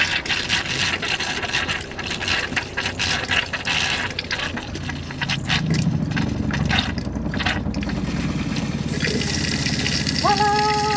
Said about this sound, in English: I'm gonna run the water.